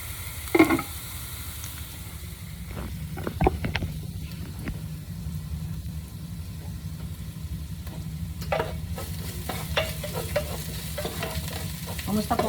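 Garlic sautéing in a hot pan, a steady close sizzle with occasional scraping and stirring knocks, no voice over it.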